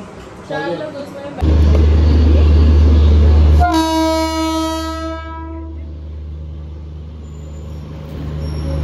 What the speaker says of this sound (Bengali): এই আমাদের ট্রেনও চলে এসেছে, এবার আমরা ট্রেনে উঠবো